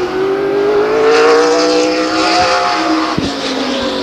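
Race car engine roaring at Stockton 99 Speedway, the number 30 California Hotwood Special driven by Steve Bolletto during qualifying, a loud steady drone with rising pitch as it accelerates past.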